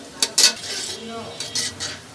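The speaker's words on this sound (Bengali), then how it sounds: "রসুনটা বাদামি কালার করে আমি ভেজে নিব" Garlic frying in soybean oil in a pan, a few metallic utensil clinks and scrapes against the pan over a light sizzle, no talking.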